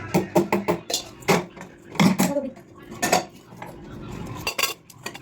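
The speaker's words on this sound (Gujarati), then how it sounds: "હવે બનાવું છું ચા." Dishes, cups and metal utensils clink and clatter in a home kitchen while tea is being made, with a burst of quick close knocks followed by scattered clanks and scrapes.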